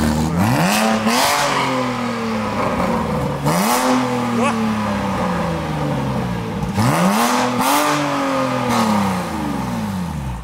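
A 2006 Porsche Boxster S engine revs hard in three loud surges, each climbing then dropping away, with people talking over the engine noise throughout.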